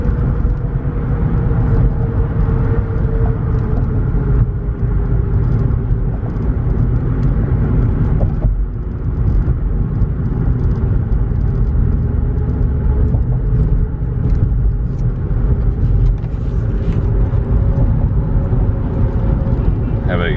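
Steady low road rumble from a Ford Fusion cruising along, with a faint rhythmic wobble in the tire noise; a voice talks over it now and then.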